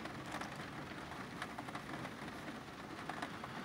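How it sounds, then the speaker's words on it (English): Heavy rain drums steadily on the roof of a camper van during an evening downpour, a dense, continuous patter with scattered sharper drops and no voices. "It rained very light off and on. But now we're getting some heavy stuff."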